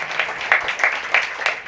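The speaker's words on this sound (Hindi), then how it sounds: "और ताली बजाना" Audience applause at a Hindu religious discourse gathering, a short burst of scattered hand claps recurring in loose rhythmic pulses, moderately loud and heard alone without talk.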